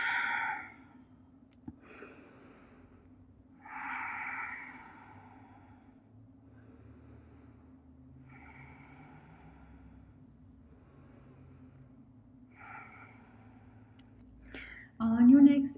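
Slow exhalations during a yoga child's pose, soft breathy sighs repeating at a relaxed pace over a low steady hum, with calm speech between breaths.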